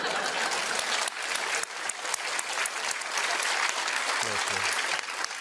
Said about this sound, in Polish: dlaczego ja biję brawo